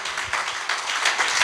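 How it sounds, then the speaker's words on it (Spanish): A church congregation claps and applauds during a service, a dense, continuous patter of many hands that stays fairly even and close for the whole moment, with no one speaking over it. "Denle su ofrenda de palmas al Señor"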